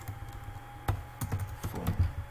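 Fingers tap on a computer keyboard in short irregular clusters of keystrokes while coding, close up, against a low steady hum.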